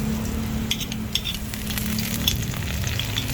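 Garlic frying in a pan, a loud, steady close sizzle with a few light scrapes and clinks of stirring.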